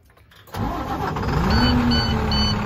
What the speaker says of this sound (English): we'll go ahead and start her up